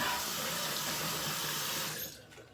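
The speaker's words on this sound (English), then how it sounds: "I'm gonna go ahead and rinse this off. Rinse off my face a bit." Tap water runs steadily into a sink as a face is rinsed while shaving, a close, continuous splashing rush that drops off near the end.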